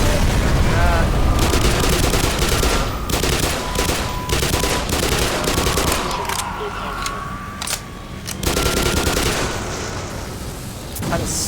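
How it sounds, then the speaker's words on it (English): Revolver shots and loud combat noise in the video game Black Mesa, with several sharp reports and a steady background of gunfire under someone talking throughout. "I use my last revolver bullet"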